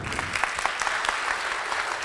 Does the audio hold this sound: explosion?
no